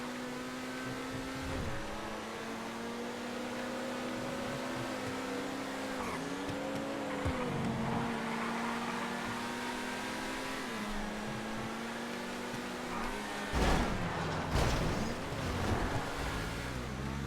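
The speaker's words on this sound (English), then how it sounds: "Always feels nice to drive a Turismo Classic." A Turismo Classic sports car in a racing video game drives with a steady engine drone, shifting pitch as it accelerates and gears change, with a louder burst of revving and tire noise near the end.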